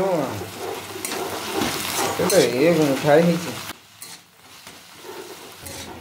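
Chuchni saag greens are stirred and fried in a pan after the lid comes off, producing close scraping and sizzling that is busy at first, then falls to a quieter, fainter fry.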